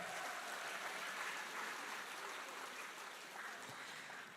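Party members applauding at a Democratic Party rally in Chungbuk, a faint, even wash of crowd clapping that carries on steadily without voices.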